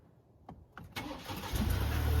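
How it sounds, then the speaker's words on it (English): A car engine cranks with a few short starter bursts, then catches and settles into a steady, fairly close idle. "So we'll go ahead and start the car."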